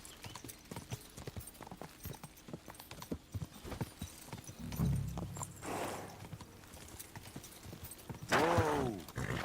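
Horse hooves clatter in Kingdom Come: Deliverance II, a fast rhythmic clip-clop of galloping at moderate loudness, followed by a horse's rising whinny near the end.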